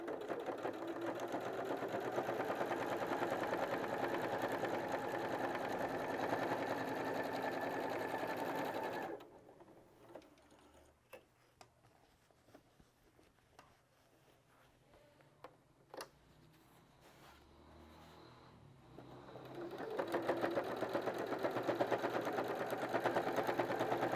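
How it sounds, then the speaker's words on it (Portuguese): A sewing machine topstitching a patchwork fabric bag whirs steadily at close range, stops for several seconds of near quiet with faint ticks and clicks, then starts stitching again. "a gente vai rebater a costura aqui"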